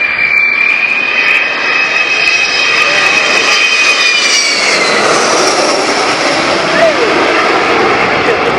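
A British V bomber jet comes in to land, its engine roar a loud, steady whine with a descending tonal sweep that fills the scene throughout.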